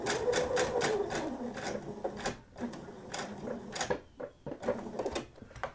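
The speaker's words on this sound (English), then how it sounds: "I'm going to pivot and stitch the front so that you can see the stitching here." A sewing machine stitches the front of a sequin hoodie in a steady run of quick mechanical bursts, with short pauses and clicks between runs, close and fairly quiet.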